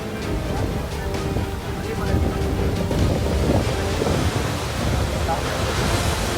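Waves surge and wash up a beach at Kanyakumari, a steady loud roar of surf with heavy wind buffeting the microphone throughout and no break in the noise.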